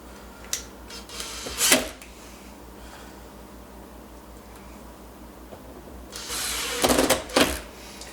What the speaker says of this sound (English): So I'm going to screw that back on now.